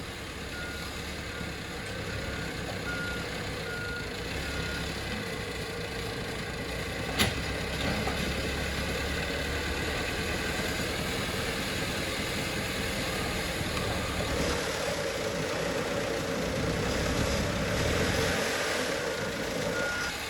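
A backhoe loads a truck while excavating a house foundation, its diesel engine droning steadily with a continuous rumble and a brief sharp clank, close and loud with no talking.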